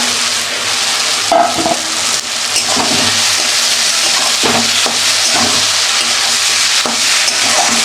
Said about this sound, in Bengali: আমি কিন্তু ভালোভাবে কষিয়ে নিচ্ছি আলু মটরশুঁটি সবগুলো